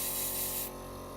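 An airbrush compressor runs with a steady broadband hiss and spray, then cuts off partway through, leaving a quieter low hum.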